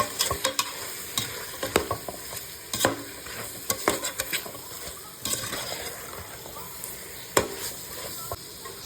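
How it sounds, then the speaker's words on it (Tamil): Tomatoes and masala being stirred in a pot for drumstick biryani, with repeated scraping and clattering spoon strokes over a low sizzle, close up and irregular, no talking. "இதை நல்லா கிளறி விட்டுக்கலாம்."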